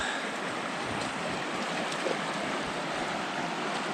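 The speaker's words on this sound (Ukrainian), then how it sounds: "Це, друзі, річка свіча." Steady rushing water of the Svicha River flowing nearby in the Carpathian mountains, a continuous broadband wash with no talking.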